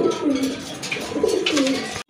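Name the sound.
pigeons cooing, chuithal pigeons for sale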